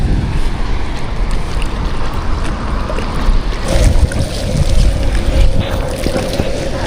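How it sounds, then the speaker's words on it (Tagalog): Strong wind buffets a small boat out on the water, a steady heavy roar and rumble battering the microphone, with a faint hum and water noise beneath and no clear talk. "Medyo malakas ang hangin."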